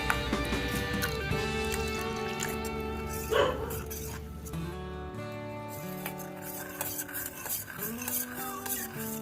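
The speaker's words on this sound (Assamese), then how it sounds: "এতিয়া এইখিনি অকমান পানীৰে মিক্স কৰি লম ভালদৰে।" A spoon stirs flour and turmeric with a little water into a paste, giving soft scraping and clinking against a bowl, close up, over steady background music.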